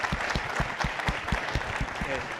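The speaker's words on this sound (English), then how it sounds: "Big round of applause for Brad and for WaFd Bank." A conference session audience breaks into steady applause, loud and close throughout, with a voice talking over the clapping.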